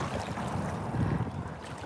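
Strong gusty wind, over 30 km/h, buffets the microphone with a constant roar, like blustery weather near open water, during a kayak outing.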